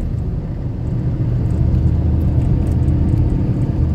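A 1990 Cadillac Fleetwood Brougham drives along with a steady low engine rumble and road noise, continuous and close, with no clear break from a gear change in the four seconds.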